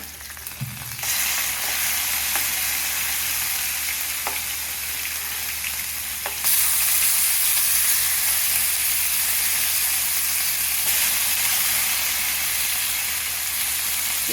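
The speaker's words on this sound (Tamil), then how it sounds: "நல்லா ஃப்ரை ஆகட்டும் மேலே கொஞ்சம் எண்ணெய் ஊற்றிக்கணும் மீனுக்கு மேலே கொஞ்சம் ஊற்றிட்டு" Rock fish fry in oil in a pan with a steady, close sizzle and hiss, broken by a few small clicks. The sizzle grows suddenly louder and brighter partway through and stays strong.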